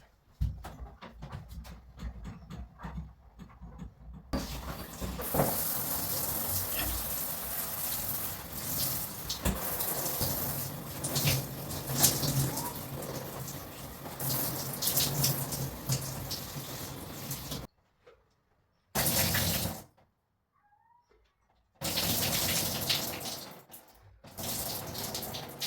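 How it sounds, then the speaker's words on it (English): Shower water sprays onto a potted plant, a loud continuous hiss and splatter that cuts off briefly twice near the end and then resumes. "I'm just going to water from the shower"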